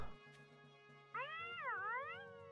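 A cat meows in the video game Loomian Legacy, one drawn-out, wavering meow that rises and dips in pitch, fairly close and heard alone after a brief quiet stretch.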